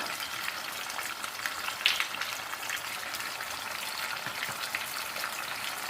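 Hot oil left over from frying chicken sizzles steadily as ground sauce goes into the pan, a dense continuous crackle heard close and alone with no talk.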